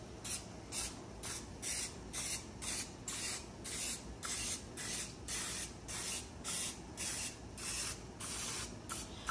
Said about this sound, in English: And then we're just going to spray